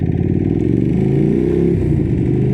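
A Ducati Streetfighter 1098S motorcycle engine pulls hard under acceleration, its deep rumbling note rising in pitch and then dropping, loud and close, with no talking over it.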